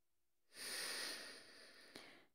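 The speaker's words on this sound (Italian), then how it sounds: "partiamo prendendo un lungo e profondo respiro." A long, deep inhale taken slowly at the start of a yin yoga session, close and soft, rising in a smooth breathy hush that fades away over about two seconds.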